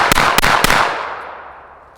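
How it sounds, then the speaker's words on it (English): A rapid string of three gunshots fired fast with 115-grain ammunition through a Wolfpack Armory Whisper Pickle muzzle device, each sharp crack close together and loud, followed by a long fading echo. "Now I'm just going to shoot it fast to make sure it functions well."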